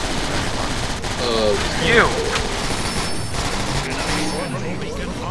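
Gunfire from the Transformers War for Cybertron video game crackles in dense rapid bursts under busy game noise, with a player talking over it.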